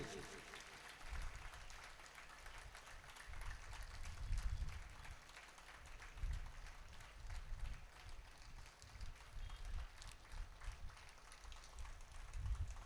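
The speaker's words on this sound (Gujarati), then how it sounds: "આ સન્માનને જોરદાર એક ધારી તાળીઓથી વધાવી લઈશું" An audience at a golden jubilee reunion gathering applauds steadily to honour a guest, a dense continuous clapping that swells slightly in places and lasts throughout, fairly distant and even.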